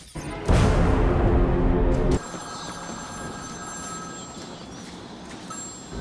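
A telephone bell rings loudly in a Batman: Arkham City side mission involving Victor Zsasz. It is one close, sustained burst of about a second and a half, followed by quieter game ambience.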